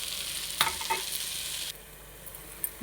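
White gongura curry sizzles in a pan while being stirred, with sharp scraping clatters early on before the frying noise drops to a quieter hiss partway through.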